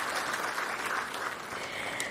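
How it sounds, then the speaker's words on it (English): An audience at a law and AI conference applauds in a steady, moderately distant wash of clapping hands that lasts about two seconds. "Let's have a huge round of applause, ladies and gentlemen."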